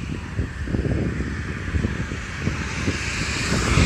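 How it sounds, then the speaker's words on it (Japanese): A jumbo jet taxiing on the ground at an airport, heard from a distance as a steady, rising engine roar mixed with wind buffeting the microphone, with no talk. "来ましたよ、あれですよ、あれジャンボですよ"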